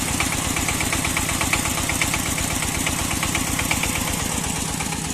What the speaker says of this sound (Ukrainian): Ось як можете бачити, трактор працює.